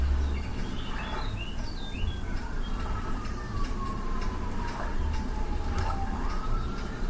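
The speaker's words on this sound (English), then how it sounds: "There's sirens in the background." Sirens wail faintly in the distance, slowly sliding down in pitch beneath a steady broadband background hum, with no voices present.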